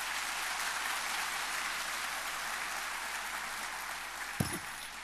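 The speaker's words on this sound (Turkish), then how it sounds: "onu yürekten bir alkış sunalım" Sustained applause from a large audience, a dense even wash of clapping that continues steadily throughout.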